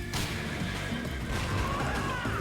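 A horse whinnies in the Roblox game YBA (Your Bizarre Adventure), a rising strained neigh heard over loud, dense game noise and scattered impacts.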